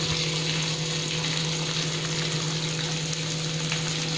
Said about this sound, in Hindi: इन सबको भी अच्छे से भून लेंगे, मिक्स कर लेंगे।